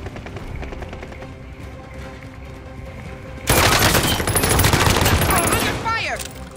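Automatic gunfire erupts midway through a Call of Duty Warzone Rebirth Resurgence quads match, loud sustained bursts after a stretch of quieter in-game ambience, with a voice talking over it.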